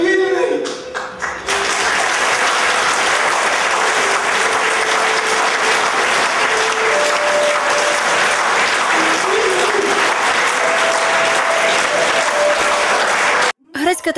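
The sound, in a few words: theatre audience applause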